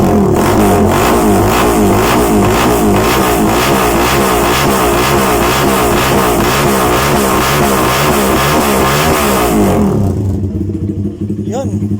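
A motorcycle fitted with an SC Project GP canister exhaust revs steadily at half throttle, giving a loud, close, pulsing drone with a rapid rhythmic throb for about ten seconds before dropping back to idle.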